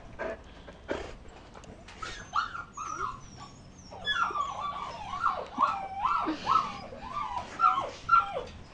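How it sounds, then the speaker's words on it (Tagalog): Dogs and their puppies whimper and yip in a rising, overlapping chorus of high, thin cries, close and fairly loud, with a few deeper barks or grunts near the start. "ito naman pala sir sila Coco at si Shasha at mga tuta ko."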